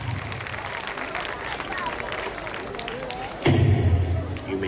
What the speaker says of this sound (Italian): Applauso, eccole qua.